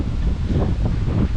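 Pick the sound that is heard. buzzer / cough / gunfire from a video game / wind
wind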